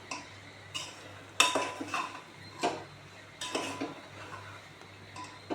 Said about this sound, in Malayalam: പൊടികൾ നല്ലപോലെ അതിനോടൊപ്പം പച്ചക്കറികളോടൊപ്പം ഇളക്കി ചേർക്കുക.